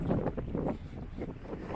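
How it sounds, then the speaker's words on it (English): Gusty wind buffets the microphone in low, rumbling whooshes, steady and close for the whole stretch, with no speech. "it's another windy day"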